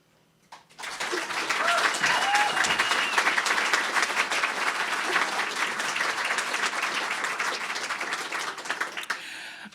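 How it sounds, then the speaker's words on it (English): Sustained audience applause at a poetry recitation competition, a dense wash of clapping that starts abruptly and holds steady and loud for nearly ten seconds, fading slightly toward the end. "keep that love and applause going"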